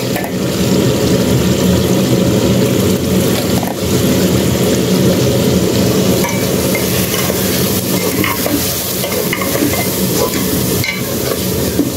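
Boiled saag greens fry in a hot pan for a chicken and saag salan. A loud, steady sizzle runs throughout, with constant scraping and stirring close by and no voices.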